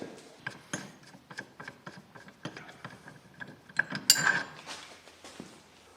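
A socket ratchet clicks in quick, faint bursts of small metallic ticks during a rear brake change on a 2004 Saab 9-3 1.8t, with light tool clatter between them.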